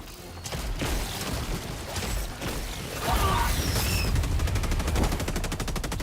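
Light machine gun fire in the video game Helldivers 2 during a high-difficulty bug fight, rapid sustained bursts over dense combat noise, with a steady rattling stream near the end.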